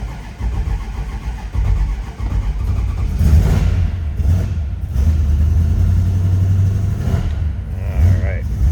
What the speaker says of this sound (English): That's going to engage the starter.